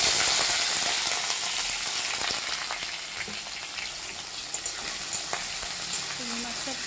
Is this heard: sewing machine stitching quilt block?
no